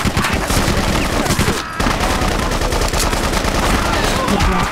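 Sustained automatic gunfire rattles through a battle in the PC action game BloodRayne, loud and continuous bursts with a brief dropout midway, layered with game effects.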